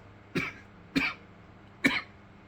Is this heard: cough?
yes